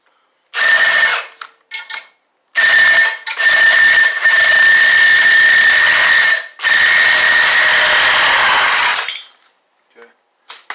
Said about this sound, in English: take the sawzall with the bent blade